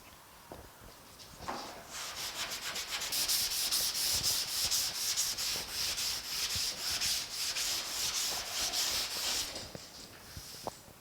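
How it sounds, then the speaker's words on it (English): Primer is block-sanded off a 1950 Chevy truck door. Rhythmic back-and-forth rasping strokes build after a few faint scrapes, run steadily and loudly close up for several seconds, then stop. "So we just need to sand all this down and all this will disappear."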